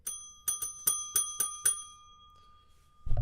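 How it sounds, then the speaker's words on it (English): A bright bell dings rapidly on a day-trading platform as a sell order fills; six quick metallic rings ring out close and clear, then decay into quiet before a low thump. "I heard it ding. The bell dung. Ding dang dong."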